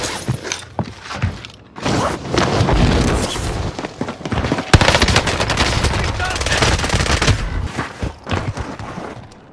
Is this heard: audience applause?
no